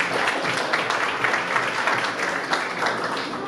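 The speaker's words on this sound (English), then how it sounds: "Can we actually clap for Long Beach Forward?" An audience at a city council candidate forum claps: a full, dense round of applause from a sizable crowd, holding at a steady level throughout with no talking.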